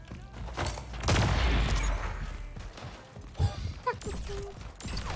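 Gunfire from a competitive online shooter, with a heavy burst of shots followed by scattered sharper cracks and thuds, loud and close, with brief voices talking in between.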